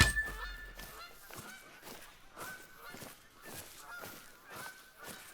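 Goose honking in theHunter: Call of the Wild, a long run of repeated honks at a steady rhythm, roughly two per second, moderately loud and close with no voices over them.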